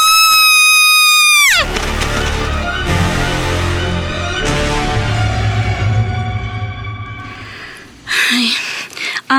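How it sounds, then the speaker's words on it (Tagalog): A girl lets out a sharp, high scream with a wavering pitch for about a second and a half, followed by dramatic music with sustained tones, then a brief noisy burst near the end. "bakit ka ba sumigaw kanina?"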